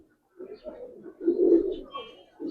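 Palla-line pigeons coo in a loft, a few close, soft throaty coos in quick succession with short pauses between them.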